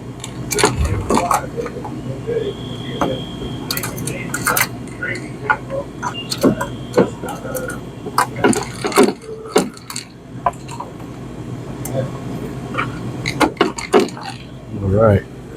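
Screws are loosened on an F'real blender during a scour heater replacement, with scattered close metallic ticks, clicks and rattles of tool and parts, and brief talk in between.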